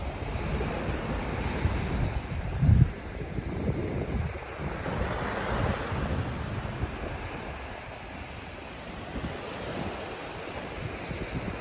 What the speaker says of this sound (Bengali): আর এত সুন্দর লাগছে সমুদ্রের এই আওয়াজটা